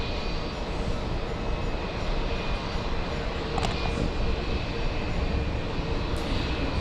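A jet airliner at JFK airport during takeoff, a loud steady engine roar that fills the scene throughout without speech.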